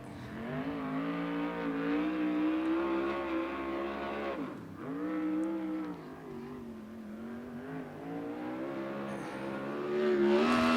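USAC Southwest race car, the 51T, on a green-flag qualifying lap at Central Arizona Speedway, its engine wailing loud and steady with a sharp dip near the turn before climbing back up to full power.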